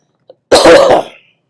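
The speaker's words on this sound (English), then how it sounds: "Sorry for my cough and everything, folks." A single harsh cough, loud and close, preceded by a faint short breath, then silence.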